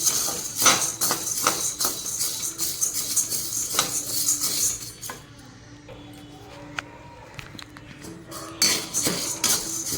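Chickpeas and lentils dry roasting in a pan without oil while being stirred, with rapid clattering of grains and spoon scrapes that fade for a few seconds before returning.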